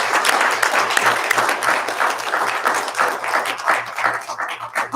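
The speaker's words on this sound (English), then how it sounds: "Let's clap." Attendees at a county board of supervisors meeting clap together in a steady, dense round of applause that holds at an even level throughout, with no talk over it.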